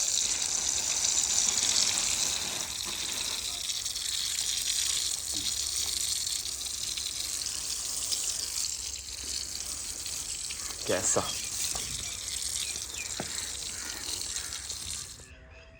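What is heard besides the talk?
sprinkling water on the ground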